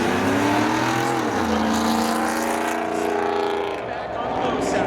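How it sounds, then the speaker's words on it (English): A 1984 Chevy Camaro drag races at Seekonk Speedway during spectator drags, its engine roaring loud and close with a rising, shifting pitch as it accelerates, while an announcer talks over it. "Walter Wickenbach the 4th in his 1984 Chevy Camaro from Warren, Rhode Island"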